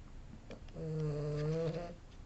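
Small dog snoring during a nap, one drawn-out rasping breath with a buzzing tone, faint and close, no talking over it.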